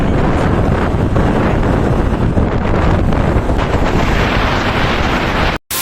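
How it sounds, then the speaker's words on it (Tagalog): Wind buffeting the microphone while riding on a motorcycle, loud, constant broadband roar and rumble throughout, cutting out briefly near the end. "Paalis na kami mga kasari. Ayan, nakamotor kami."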